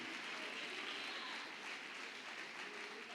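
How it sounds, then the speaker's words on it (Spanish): A church congregation applauding during a sermon, a faint, steady wash of clapping heard from a distance with no clear individual claps. "Fuerte el aplauso al Rey."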